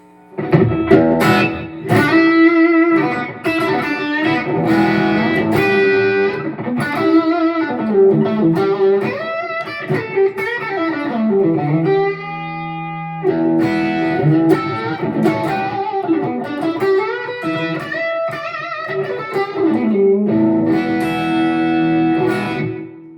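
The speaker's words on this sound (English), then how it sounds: "So this is the super reverb. I've got the King of Tone on, the Kinky Boost on, and let's put some slap on." An electric guitar plays through a Line 6 Stadium XL set to a Super Reverb amp with King of Tone and Kinky Boost overdrive plus slapback echo, sounding loud, driven melodic lines and bends with short echo repeats.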